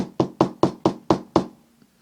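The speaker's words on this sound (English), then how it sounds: "He walked up the porch steps and knocked on the door." Six sharp, evenly spaced knocks on a wooden door, close and clear, followed by silence.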